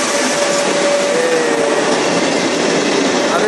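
A train rolling into a station, loud and close, with a steady broadband rumble of wheels on rail and a faint high wheel squeal drifting through, continuous for the whole stretch with no talk.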